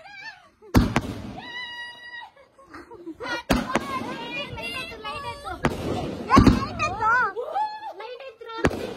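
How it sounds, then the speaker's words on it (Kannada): Firecrackers burst at a birthday celebration, several sharp loud cracks scattered through the clip, while excited voices talk and exclaim between the bangs. "ಓ ಪಟಾಕಿ ಹಾಕೋದು"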